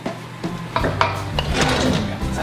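A baking dish holding a rhubarb dessert is slid back into a home oven, making a few knocking, scraping bumps of metal and rack against a steady background hum.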